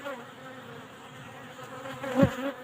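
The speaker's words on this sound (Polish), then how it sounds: "Chodzą pszczoły moje na grykę" Honeybees buzz steadily close by at an apiary during buckwheat bloom, a droning hum that swells as one passes near the microphone.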